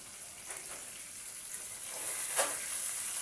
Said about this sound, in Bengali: মাছের ভাজাটা ভাজা হোক